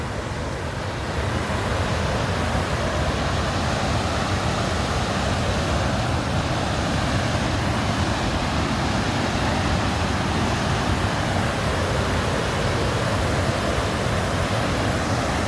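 Godachin Malki Falls roars as a steady, loud, broadband rush of falling water, continuous throughout with no voices.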